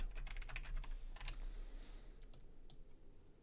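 Quiet typing on a computer keyboard, a short run of quick key clicks followed by a few separate taps, with no one speaking.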